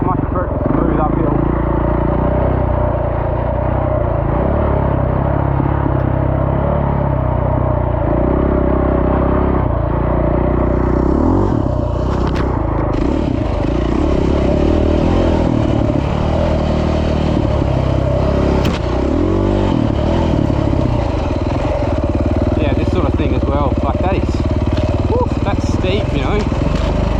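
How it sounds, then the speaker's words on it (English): Continuous engine drone from a custom adventure-converted KTM 450 EXC dirt bike ridden on sandy trails, loud and steady throughout with shifting revs and clattering over rough ground, wind and rider noise mixed in. "Riding an adventure-ised EXC 450"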